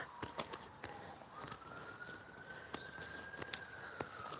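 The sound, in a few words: sirens in the background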